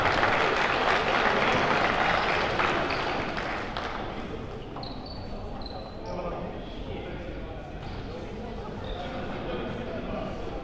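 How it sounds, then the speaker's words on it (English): Applause from a crowd at a 2019 U23 national rugby championship match in Hutt Valley, Wellington, between Wellington and Manawatu, a dense sustained clatter of clapping that is loud at first and then eases slightly, with voices mixed in. "It's a massive applause"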